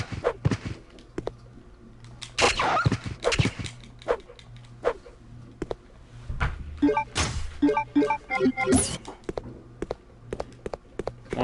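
A dog attacks in Resident Evil: Code Veronica X, with scattered snarls and barks mixed with sharp thwacks and impact hits, loud bursts separated by quieter gaps, and no speech.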